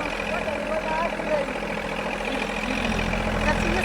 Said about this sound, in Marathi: आता मी ट्रॅक्टरवर बसलोय